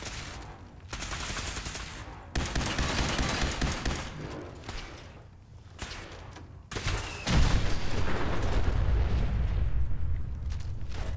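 In Fallout 4, a mini nuke goes off amid heavy gunfire, with repeated loud blasts and roaring bursts building into a dense, sustained explosive rumble that swells louder toward the end.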